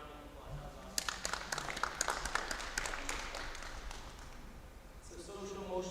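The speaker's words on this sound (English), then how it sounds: "Let's give them a round of applause." At a school district town hall, a small audience breaks into scattered, fairly quiet applause for a few seconds, with talking heard before and after the clapping.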